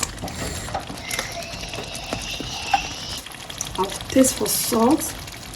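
Stew sauce without tomatoes simmering in oil on medium heat, a low sizzle with clicking utensil and ratcheting kitchen clatter, and a brief voice murmuring near the end.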